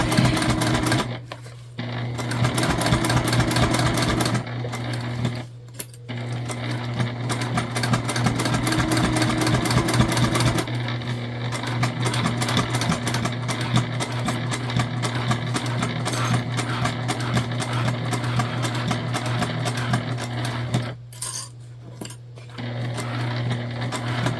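A sewing machine stitches steadily over a thick bag seam, a loud continuous mechanical whir with brief pauses where the needle stops and restarts.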